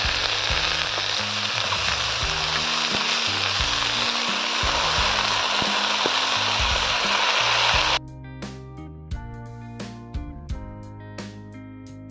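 Spinach dropped into a pan of frying small crab and onion, a loud dense sizzle that cuts off abruptly partway, followed by quieter sputtering pops and clatter.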